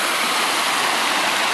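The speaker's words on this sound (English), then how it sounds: "So here's the bottom of our waterfall." Waterfall below a large beaver dam near Trinidad, Colorado, roaring as a dense, steady rush of falling water, close and loud throughout with nothing else audible.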